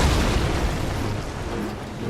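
Cannon and bomb explosions in the video game Ni No Kuni 2, heard as a loud, continuous rumbling boom that slowly fades, close and alone with no talking.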